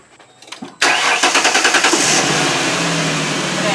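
A damaged Ford Explorer being rebuilt cranks with a quick rapid starter chatter, then catches and settles into a loud, steady idle close to the microphone.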